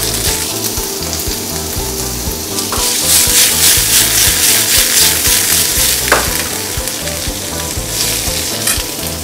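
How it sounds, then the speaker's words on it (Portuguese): Garlic and cumin seeds frying in a pan with diced potato, a loud, dense, continuous sizzle heard up close, swelling after a few seconds, with occasional stirring knocks and scrapes and no talk. "Vou dourar o alho junto com o cominho em grãos."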